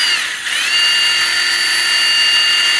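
A power drill spins an inside pipe cutter inside a plumbing pipe, giving a steady high whine that dips briefly near the start and then holds level and loud.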